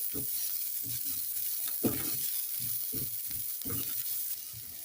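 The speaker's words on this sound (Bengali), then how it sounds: "এবার পেঁয়াজ কুচিটাকেও একটু লাল লাল করে ভেজে নেব।" Chopped onion frying in a pan for a masala vegetable oats dish, a steady close hiss of sizzling oil with intermittent stirring scrapes and clatters throughout, no voices.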